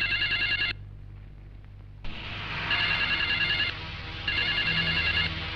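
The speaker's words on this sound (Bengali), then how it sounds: "কি ব্যাপার, ফোন বাজতাছে," Telephone ringing indoors in a Bangla movie scene, an electronic bell sounding in three bursts with short pauses between them, clear and close.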